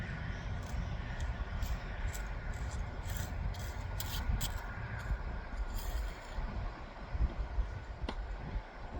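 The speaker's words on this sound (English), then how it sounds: "Just scrape it down in there." A tuck pointing tool scrapes concrete down into a joint on a headstone's concrete base, gritty rasping strokes close to the mic, with wind noise and crows cawing in the background.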